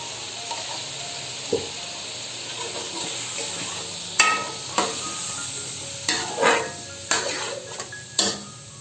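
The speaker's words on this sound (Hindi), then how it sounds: "अब प्याज और दही को शामिल करेंगे जो हमने ब्लेंड किया था।" Blended onion and yogurt go into fried masala for an aloo anda salan, with a low sizzle and repeated scraping, clinking spoon strokes against the pot, close and moderately loud.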